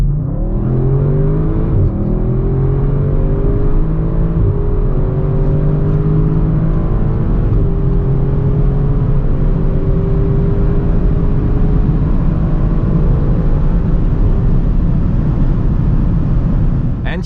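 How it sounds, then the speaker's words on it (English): Sports sedan or wagon, such as a Mercedes-AMG E63 S, BMW M5 Competition or Audi RS6 on 22-inch winter tires, pulling hard from 100 to 200 km/h: a loud, continuous engine roar rising steadily in pitch with brief dips at gear shifts. "So let's now see how fast the car goes from 100 to 200."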